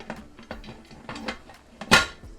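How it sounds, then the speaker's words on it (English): Metal lid being fitted onto a pressure canner, a series of light clanks and scrapes of metal on metal, close by, building to one louder clang near the end. "gonna put the lid on and we're gonna get this rocking and rolling"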